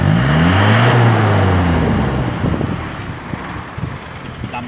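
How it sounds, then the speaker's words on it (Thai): An Isuzu TFR pickup's diesel engine starts and revs up, rising and falling in pitch as it is held at higher revs, then settles back toward a rougher idle with some wind buffeting on the microphone. "มาดิอ้าวสตาร์ทเครื่องเลย"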